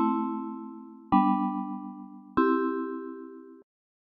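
Synthesizer chords live-coded in Tidal Cycles and run through a DJ filter, three bell-like chords struck in steady succession, each sustaining with a gentle decay and stopping cleanly, with no voices.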